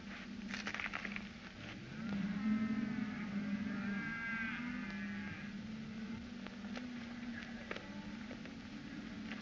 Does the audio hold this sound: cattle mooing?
yes